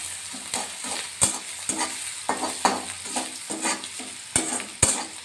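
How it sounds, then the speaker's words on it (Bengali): Chopped onion frying in a pan sizzles softly and steadily, broken by repeated scrape and clink sounds of a spatula stirring, close up with no talking. "পেঁয়াজটা আর একটু ভাজা হবে"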